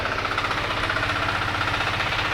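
A 4x4 articulated mini tractor engine runs steadily nearby, a loud, even chugging drone with a rapid rhythmic knock and no voices.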